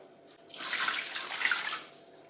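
Water from a tap pours into a 12-cup measuring container for matzo ball soup, a steady splashing rush that swells after a quiet start and tapers off near the end, close and alone.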